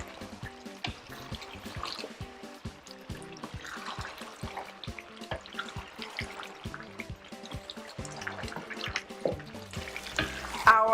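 Eru being stirred into cooked oil in a pot, a steady run of soft scraping and clinking strokes over a low sizzle of frying, close and continuous with no talk.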